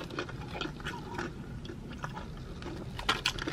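Biting and chewing extra crunchy KFC fried chicken, close crackly crunches and wet mastication noises, irregular, with a sharper burst of crunching near the end.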